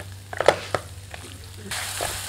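Boiled potato pieces frying in a pan for spicy chana chaat, a steady close sizzle punctuated by a few sharp stirring clicks and scrapes, the frying growing brighter and louder toward the end.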